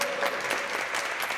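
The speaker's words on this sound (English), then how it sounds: "please, one more round of applause for our amazing pianist, Kevin Navarro." A concert audience applauds a pianist: brief, dense clapping from many hands at a moderate distance, steady throughout.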